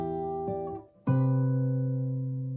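A guitar plays a major 7 chord in two strums: the first rings briefly and is damped, then a louder strum sustains and slowly decays, close and clean, with no voices.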